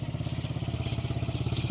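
Motorcycle engine running at a steady, pulsing mid-pitch chug while riding, close and fairly loud with no talk.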